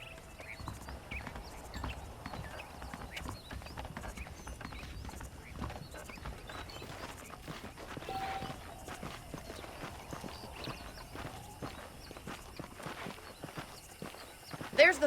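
Horse hooves clip-clop at a walking pace in Red Dead Redemption, a steady moderate patter that runs through the whole stretch beneath game music and ambient noise, with voices speaking over it.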